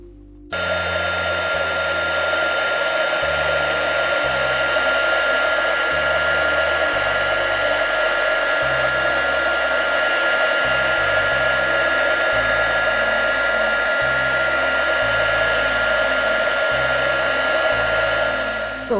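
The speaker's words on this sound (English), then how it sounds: "all you're going to do is just heat that with your heat tool" A heat tool blows steadily for heat embossing powder, starting abruptly and holding a loud, constant whirring hiss near the microphone for the whole stretch, with a low music bed underneath.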